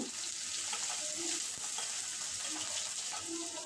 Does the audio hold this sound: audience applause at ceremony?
no